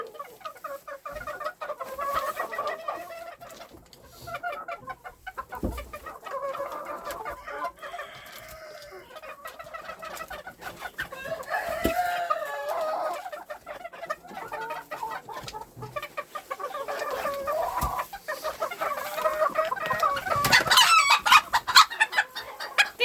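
A bantam rooster clucks repeatedly up close, breaking into louder squawking crows toward the end.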